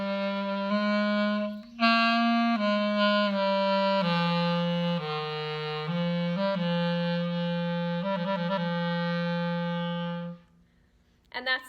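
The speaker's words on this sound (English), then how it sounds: "This is a clarinet." A clarinet plays a series of sustained, clear notes up close, moving through several pitches with brief gaps, then stops near the end.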